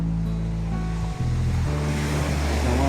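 Sea waves roll onto a shore in a continuous loud wash with a deep rumble, close by and mixed with wind buffeting the microphone.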